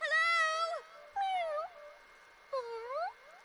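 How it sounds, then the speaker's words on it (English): Cat meowing in the video game Akiba's Beat: three drawn-out, rising and falling meows, clear and close, spaced about a second apart. "It was a cat all this time."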